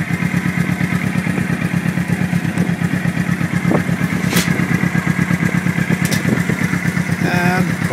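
A motorcycle engine idles cold at around 1,000 RPM, a loud, close, steady pulsing putter with a few faint clicks and taps over it.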